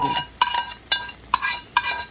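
Garlic fried until reddish is stirred into taro leaves in a pan, a few sharp clinks of a utensil against the pan recurring every half second or so over a soft sizzle, close and moderately loud.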